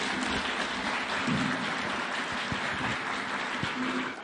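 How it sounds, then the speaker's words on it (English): Sustained audience applause fills a formal launch event for Kenya's fourth medium-term development plan, a steady dense wash of many hands clapping with no voices over it. "One more round of applause, please."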